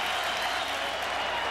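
A Wrigley Field crowd at a 2003 Cubs–Braves playoff game, a steady broad roar of cheering and clapping as fans rise to their feet.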